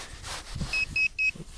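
A GP Pointer pinpointer metal detector gives three short, evenly spaced electronic beeps, close and clear over faint background rustling.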